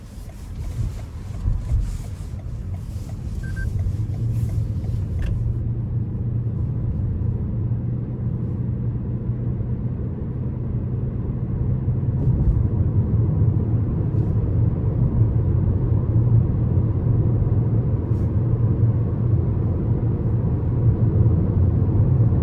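A 2021 Toyota Venza XLE AWD rolls along the road with a steady low cabin rumble and road and wind noise, swelling slightly as it goes, with no one speaking.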